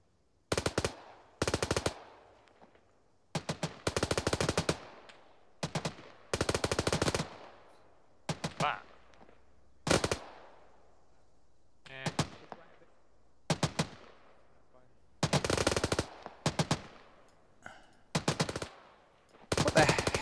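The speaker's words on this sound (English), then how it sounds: "What the hell are they firing at?" Automatic gunfire in Arma 3 comes in short, sharp bursts, a dozen or so spaced across stretches of near silence, each a crisp, loud rattle of rapid shots.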